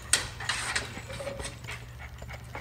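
A dog pants close by in quick, breathy huffs, with a few faint whimpers mixed in over a low background rumble.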